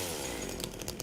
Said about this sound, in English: Overwhelming chainsaw.